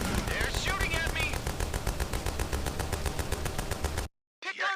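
Rapid automatic gunfire aimed at the player in the VR game Grit and Valor 1949, a dense, loud, continuous rattle of shots that cuts out briefly near the end, with a voice over it.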